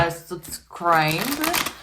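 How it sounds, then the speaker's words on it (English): Tarot cards are shuffled by hand in a steady papery riffle through most of the two seconds, under a tonal, voice-like sound that rises and falls. "And while I shuffle"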